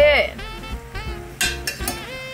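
Homemade tortilla soup cooks in a pot on medium heat, a close bubbling sizzle with soft stirring clinks and a few louder bursts toward the end.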